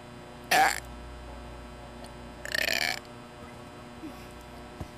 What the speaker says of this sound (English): What if I get the water and do the burp?